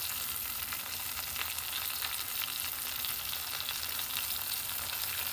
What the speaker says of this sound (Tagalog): Ito ilunod na natin guys, mainit na mantika. Yan ang pork chop natin guys.